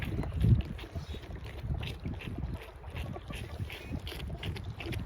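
Gusty wind blows around a small farm barn, giving a continuous low rumbling buffet with a few stronger gusts, close to the microphone and without speech.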